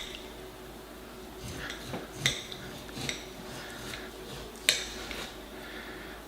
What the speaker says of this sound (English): I'm gonna cut just a little chunk.